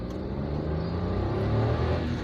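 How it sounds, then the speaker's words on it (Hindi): Suzuki Alto VX small hatchback engine droning at high revs around 3,000–4,000 RPM, heard from inside the cabin as a steady, loud continuous hum and rumble with no talk. "लेकिन बाद में इंजन का शोर जो है वो बहुत ज़्यादा अंदर आना शुरू हो जाता है"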